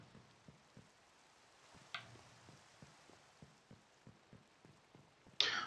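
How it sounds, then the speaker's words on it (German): Soft, faint rain falls in the Minecraft modpack Sky Factory 3.0, a low steady hiss with regular light ticks, ending in a louder sudden burst. "Hallo Regen."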